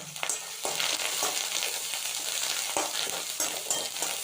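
Green chilies, ginger and curry leaves frying in oil with urad dal, a dense close sizzle with scattered crackles and spoon scrapes, no voices.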